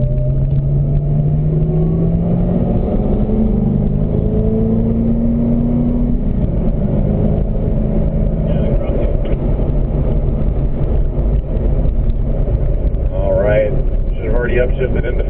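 A Corvette ZR1 race car roars loud and close on a track, the engine climbing in pitch as it accelerates, then dropping with an upshift while someone talks over the noise.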